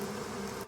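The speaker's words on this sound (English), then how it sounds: "And Beelzebub, release the bees." Dense swarm of bees buzzing, a steady close-up drone that holds for most of a second before cutting off abruptly.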